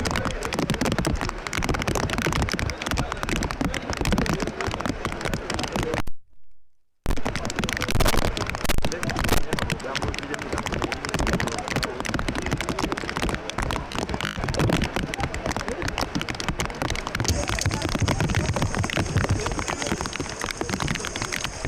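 Steady, dense rain pours throughout an outdoor political party national council meeting, a loud continuous hiss broken only by a brief silent gap, with no talk.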